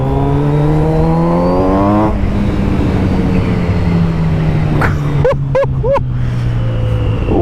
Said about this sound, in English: a lot of the time inline four cylinders sound the same, but this has a different tone to it